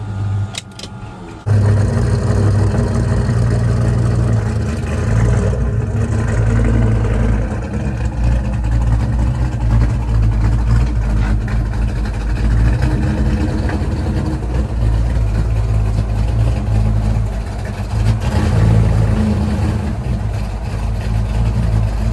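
A 1985 Ford Mustang Fox body engine catches and settles into a loud, steady running rumble close by, holding a constant idle with slight fluctuations throughout.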